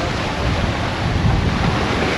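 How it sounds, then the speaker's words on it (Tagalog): Strong wind buffets the microphone at the seaside near a volcano, a continuous loud roar with breaking surf mixed in, steady throughout with no voices. "Malakas ng hangin."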